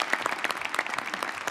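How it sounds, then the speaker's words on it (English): A brief burst of audience applause in a formal government meeting room at a National Space Council session, many hands clapping densely at moderate loudness. "I think that's worth a round of applause."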